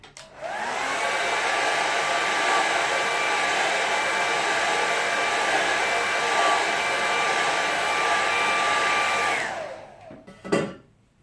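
A hair dryer blows steadily on a watercolour Highland painting, a loud constant whooshing whine with a faint tonal hum that runs for about nine seconds before switching off, followed by a brief handling knock.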